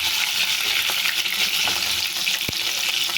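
Tomatoes fry in hot oil over a cumin tempering with a steady, bright sizzle. A couple of faint stirring clinks break through it, and one sharp tap of a utensil comes near the end.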